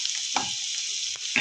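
Garlic and chillies fry in hot oil with a steady, close sizzle, broken by a few brief scrapes as they are stirred in the pan.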